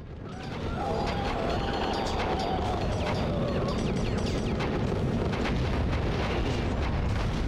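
Missile explosions in the 2003 RoboCop video game build into a dense, continuous roaring rumble of blasts and debris that swells in after a quiet start and stays loud to the end.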